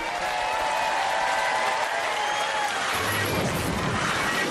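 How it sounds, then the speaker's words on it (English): A studio audience applauds loudly and steadily at a Nickelodeon Robot Wars taping, with dense clapping mixed with crowd cheering throughout. "Give them a round of applause"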